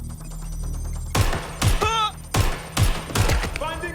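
Gunfire in the video game Watch Dogs Legion: five sharp, loud shots in quick succession over a low background hum, with ringing electronic tones trailing after some of them.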